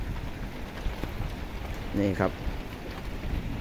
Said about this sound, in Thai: นี่ฮะฝนลมมาแล้วนะครับทั้งฝนทั้งลมนะครับ